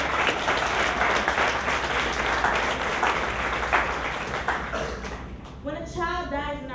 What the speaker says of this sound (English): Let's give a round of applause for this great wall.